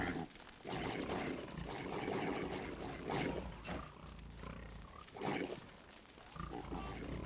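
Several pigs in Don't Starve grunt and squeal loudly and close together, rough snorting bursts overlapping in a busy fight with thuds and scuffling around them.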